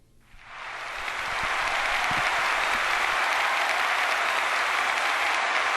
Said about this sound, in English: Let's give a big round of applause for Mr. Rick Bone.